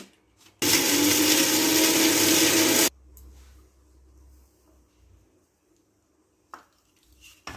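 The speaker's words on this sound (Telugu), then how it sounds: "ఎండుమిర్చిని ఒకసారి మిక్సీకి పట్టించి కలుపుకోవచ్చు" A kitchen mixer grinder whirs loudly for about two seconds grinding dry red chilies in its jar, then cuts off, leaving quiet handling noises and a couple of faint knocks.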